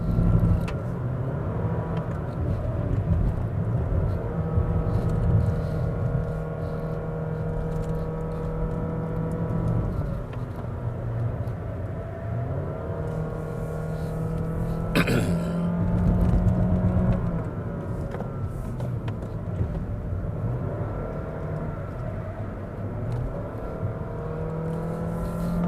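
A 2022 Honda City RS Hatchback with i-MMD hybrid powertrain climbing the Genting hill road, its engine holding a steady, loud whirring drone with a brief surge in revs around the middle.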